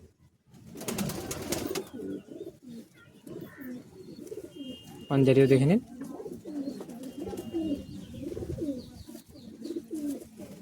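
Madrasi high-flying pigeons coo steadily in soft, repeated low calls close by, with someone talking over them and a brief louder flutter midway.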